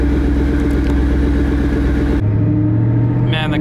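Steady engine rumble from a twin-turbo Ford Mustang Boss 302 in motion, a continuous low drone with a shift in pitch partway through, close and fairly loud.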